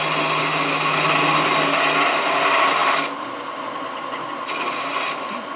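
A wood lathe spins at 1,000 RPM, giving a steady machine whine and hum that drops noticeably in loudness partway through and then holds a quieter drone, heard nearby without talking.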